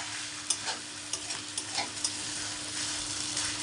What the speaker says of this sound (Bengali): দিয়ে এইভাবে নাড়াচাড়া করে সব চিকেনের সঙ্গে আলুগুলোকে মিক্স করে নেব।